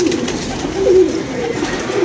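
Special banded pigeons coo close by in a soft, continuous low warble that swells and dips throughout.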